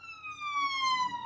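An ambulance siren wails as it passes on a London street, a clear electronic tone sliding gradually lower in pitch, moderately loud and heard alone.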